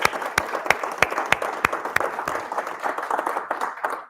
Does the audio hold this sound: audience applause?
yes